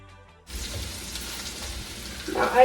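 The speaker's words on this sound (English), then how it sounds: "Now add the red chilies and garlic." Red chilies and garlic drop into hot ghee and oil for a South Indian tempering, setting off a sudden, steady close sizzle and crackle that swells louder near the end.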